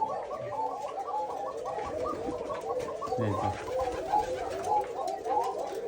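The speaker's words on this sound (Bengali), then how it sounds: "যান কালো কবুতরের ঘরে যান দেখেন" Pigeons cooing in a loft on a farm, a soft, continuous overlapping chorus of repeated coos from several birds nearby, with a brief low murmur partway through.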